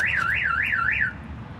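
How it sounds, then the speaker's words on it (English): A 2023 Freightliner M2 106 truck's alarm goes off at power-on: a loud, close warbling siren sweeping up and down about four times before cutting off, over a low engine-like rumble. "There is an alarm system on here that will trigger once you turn the power back on."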